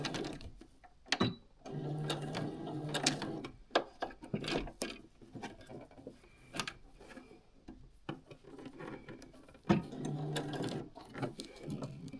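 A sewing machine working through fusible interfacing, with close mechanical whirring and ticking in short uneven bursts, stopping and starting as the needle struggles.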